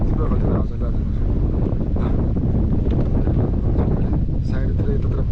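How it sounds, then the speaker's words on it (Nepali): Strong wind blowing hard behind a hilltop Shiva temple, roaring and buffeting straight into the microphone in a continuous low rumble. "हावाको आवाज सुन्न सक्नुहुन्छ हजुरहरूले। हावा एकदम बेग रूपमा तीव्र गतिमा आवाज चलिरहेको छ।"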